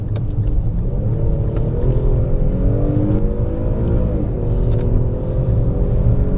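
An Infiniti Q70 sedan with a naturally aspirated engine accelerates hard to pass on the road, its engine note rising in a loud, steady roar of revs with a low rumble beneath, continuous throughout.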